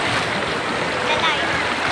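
Strong current of a mountain stream rushes over large rocks as a loud, constant broadband roar, with a person talking over the water.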